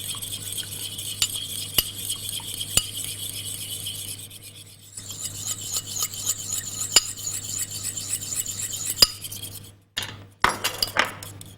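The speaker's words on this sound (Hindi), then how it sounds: "ये इसको आपने अच्छी तरह फेंटना है दही को।" Yogurt, about four to five tablespoons, being beaten in a bowl for a hunter beef marinade: steady scraping, rasping strokes with sharp clinks against the bowl, pausing briefly near the end before resuming.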